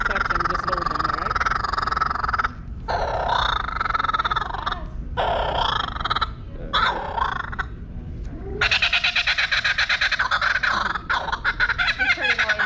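Laughing kookaburra calling loudly up close at SeaWorld Orlando, a long run of harsh, rapid cackling bursts that grows into a dense raucous chorus, with brief pauses between phrases.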